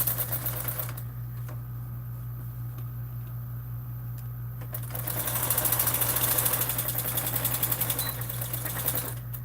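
A sewing machine stitches a Swoon Maisie bag, its rapid mechanical run steady and close for several seconds, then speeding up and growing louder toward the end over a constant low hum.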